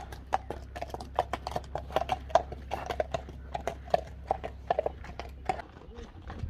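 A rider brings out the number 2 horse at a horse sale, its hooves clip-clopping in an irregular, fairly close series of sharp knocks, with someone talking over the steps.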